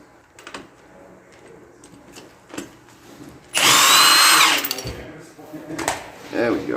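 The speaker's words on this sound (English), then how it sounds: "the impact should make short work of that" An impact wrench gives one loud, sustained rattling burst of about a second while removing the top nut of an ISC coilover on an S550 Mustang, with quieter workshop clatter and handling noises before and after.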